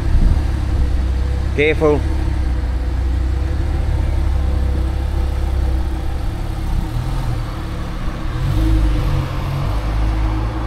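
A 2024 Lamborghini Huracan Tecnica pulls away on delivery day, its engine a loud, steady low rumble that rises slightly as it drives off, with a brief voice speaking over it near the start.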